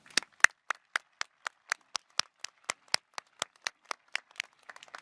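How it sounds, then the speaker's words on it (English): A single person claps steadily at a commencement ceremony for a college School of Science, about twenty sharp, evenly spaced claps over five seconds, close and clear against a quiet hall with no crowd swell. "Please join me in applauding their contributions to the college."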